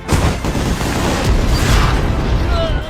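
A deep, rumbling boom rolls on with a dense, crackling roar, like a heavy RPG explosion in a film battle scene, sustained and loud throughout.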